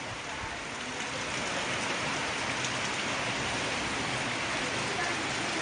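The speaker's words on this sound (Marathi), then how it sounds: "बघा कोकणातलो पहिलो पाऊस बघा" Steady, dense hiss of the first monsoon rain falling in Konkan, even and continuous throughout with no other clear sounds.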